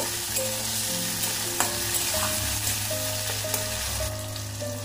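Grated tomato and ginger frying in oil with whole cumin in a pan, a steady close sizzle with occasional stirring scrapes and faint background tones, no talk.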